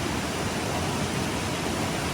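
A mountain river rushes steadily with a dense, unbroken roar, close and loud, holding an even level throughout with no voices.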